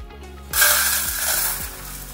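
Curry leaves and spices for a curry leaf spice powder dry-roasting in a pan with no oil: a sudden bright sizzle starts about halfway through and carries on steadily, with soft scraping stirs underneath.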